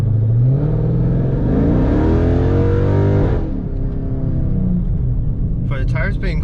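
A Dodge Charger Scat Pack in sport mode accelerates hard on cold new tires, its engine note climbing through a loud, rumbling rev, then easing off to a steady cruise with brief chatter at the end.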